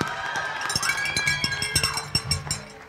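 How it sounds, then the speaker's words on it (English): A middle school assembly audience claps and cheers for a contestant, with irregular sharp claps over a steady crowd murmur and some voices mixed in. "Round of applause for Kira"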